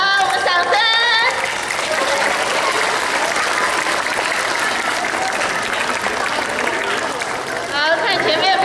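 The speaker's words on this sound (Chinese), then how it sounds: "好，我们掌声" An audience clapping at a school Teachers' Day celebration, dense, sustained applause close by, with voices speaking over it at the start and the end.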